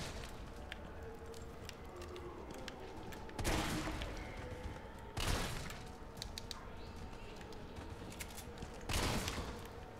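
Shotgun blasts in Resident Evil 3 Remake, three loud, widely spaced booming shots a couple of seconds apart over quiet game ambience, with no talking.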